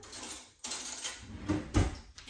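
A metal tablespoon is picked up in a kitchen, with a few faint clinks and light rattles of metal against dishes, one brighter clink standing out near the end.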